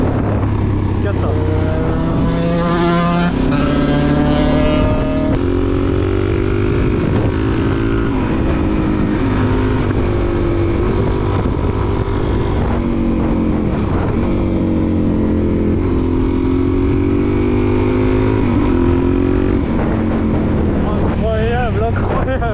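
A Suzuki DRZ 400 supermoto engine droning while ridden on a group ride among friends, with rising and falling revs and gear changes under heavy wind rush, loud and continuous.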